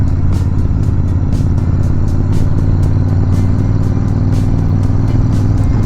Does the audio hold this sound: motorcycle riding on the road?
yes